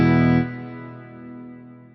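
Electric guitar chord through a Fractal Large Cathedral reverb at default settings, struck loudly then left to ring out in a long, smooth wash that fades slowly over nearly two seconds.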